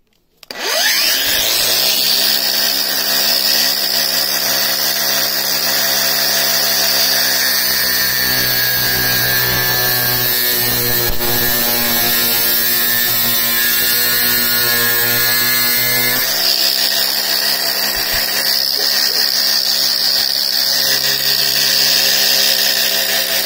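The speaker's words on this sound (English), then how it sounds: "then we'll need to cut it with an angle grinder" Angle grinder cutting through a hydraulic hose, a loud sustained high whine with shifting pitch as the disc bites, running continuously close by for over twenty seconds after a quick spin-up.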